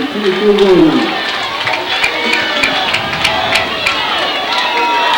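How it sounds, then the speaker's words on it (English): High school football game crowd noise, a loose mix of distant cheering, chatter and scattered claps with people talking over it. "Teams trying to get the fans into it, make some crowd noise."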